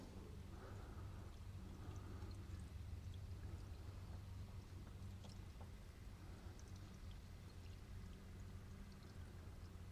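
Antifreeze and water pour steadily into the radiator of a Kubota RK37 tractor, a faint continuous trickle and splash under low background hum.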